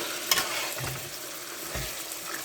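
Mutton pieces fry in a pan of softened tomatoes for a South Indian boti curry, a steady sizzle broken by a few stirring scrapes and soft thumps, close and with no speech.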